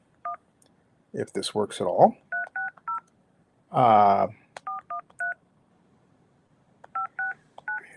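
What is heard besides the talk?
telephone dialing tones for a phone call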